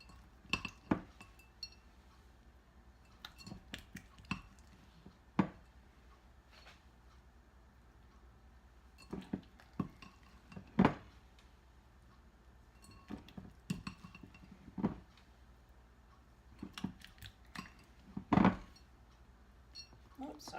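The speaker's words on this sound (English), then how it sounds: "we're just going to put a scoop of the apple pie filling down in there" Apple pie filling is scooped into glass jars for caramel apple cheesecake, with scattered sharp clinks of a spoon against glass, some louder taps among soft scraping, and occasional quiet talk.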